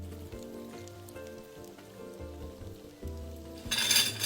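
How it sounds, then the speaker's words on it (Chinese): Tofu cubes deep-frying in plenty of very hot oil, a steady crackling sizzle with scattered pops that grows louder and brighter toward the end, no voices. "高温多油炸个15秒即可离火"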